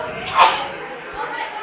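A single sharp sneeze bursts out briefly over a background of ongoing talk and room noise at a boys' basketball game.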